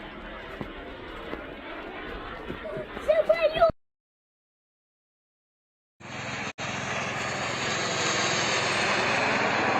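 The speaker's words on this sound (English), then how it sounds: "О, полетел, еще один беспилотник." An attack drone passes overhead in a steady engine drone. It is cut by a silent gap, then returns and grows louder, with voices and other noise early on.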